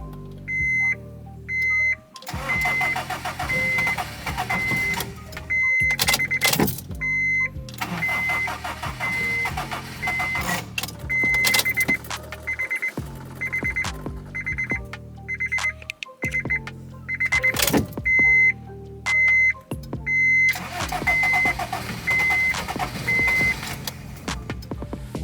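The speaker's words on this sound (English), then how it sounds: "now we got an engine start" A car engine cranks, catches and keeps running after a battery change, with a rough, stepped rumble broken by brief pauses and repeated high electronic beeps chiming over it, loud and close.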